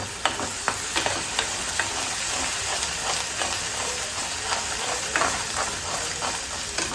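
Black pepper and cloves fry in hot oil while being stirred, giving a constant close sizzle and hiss broken by sharp spoon scrapes and clinks against the pan, with no voices.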